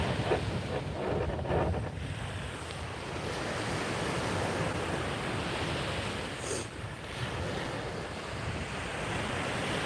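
Ocean waves roll and wash onto an Icelandic shore in a constant surf roar, with gusting wind buffeting the microphone over the whole stretch.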